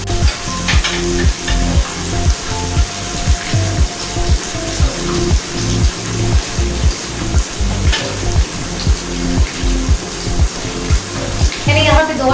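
Chicken achar gosht sizzles loudly in a pan, with a steady frying hiss and regular rhythmic stirring scrapes throughout.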